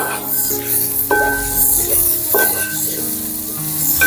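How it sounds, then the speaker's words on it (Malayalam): Sliced onions hitting hot oil in a pan for a Kottayam-style beef perattu, giving a steady close sizzle with scraping and stirring, interrupted by a few tonal clinks. "നമുക്ക് എണ്ണയിലേക്ക് നമ്മൾ അരിഞ്ഞു വെച്ചിരിക്കുന്ന സവോള നമുക്ക് ചേർത്തോളൂ"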